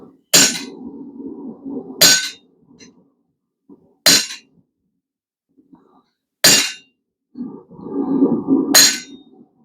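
Five sharp metallic hammer blows strike a handled chisel cutting hot metal, spaced unevenly about two seconds apart. Each ringing impact is loud and close, with some scraping and shuffling between the strikes.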